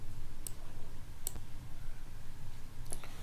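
A computer mouse clicks three times at spaced intervals while building a presentation, sharp close clicks over a steady low background hum.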